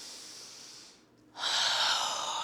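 A single slow inhalation during a gentle seated chair yoga flow: a soft, airy breath that fades briefly, then swells into a steadier, louder draw of air, close and alone with no talking.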